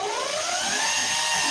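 A power drill with a sanding disc runs on low speed, sanding a car headlight lens. It makes a steady, close, high-pitched whine with a slightly rising tone and runs continuously without pause.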